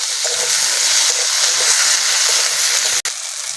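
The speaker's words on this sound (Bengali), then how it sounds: "টমেটোটা ভালো করে ভেজে নেব" Tomatoes frying in oil in a pan while lentil dal is being made, a steady loud sizzle that continues throughout, with a short break near the end.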